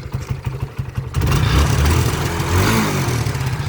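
Revived Kawasaki motorcycle engine starting up and running, a light rough idle that jumps into a loud, steady, close rumble after about a second and holds there.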